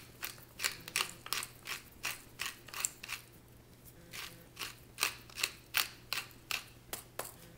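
Pepper mill grinding black pepper over a spring onion pesto for linguine, close crisp ratcheting cranks in two quick rhythmic bursts with a short pause between, a faint steady hum beneath.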